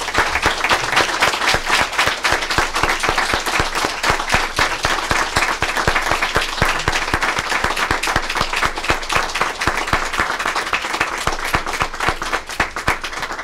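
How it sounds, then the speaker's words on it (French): A room of mourners at a funeral ceremony gives long, warm applause: dense, steady clapping from many hands that fills the whole stretch at an even loudness, with no speech over it. "je pense qu'on peut applaudir chaleureusement Monique."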